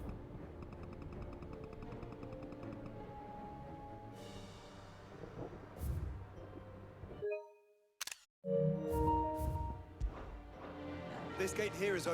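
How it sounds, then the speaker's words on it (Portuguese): Camera shutter clicks in Final Fantasy XVI, as photos are taken of horse statues: a few sharp snaps around a sudden break in the game's music and ambience, with a voice talking over it. "A gente não atravessa, mas a gente tira foto nas estátuas de cavalo."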